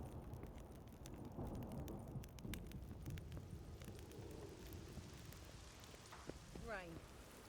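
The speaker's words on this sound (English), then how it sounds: "Rain." Rain pours steadily in The Witcher 3, a dense patter of drops on surfaces, quiet and continuous, with a few faint chirping tones near the end.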